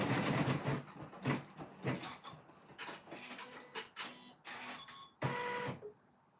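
A Janome M17 embroidery machine stitching an in-the-hoop quilt block, with rapid mechanical rattling bursts broken by brief pauses and changes in pace, heard up close with no talking.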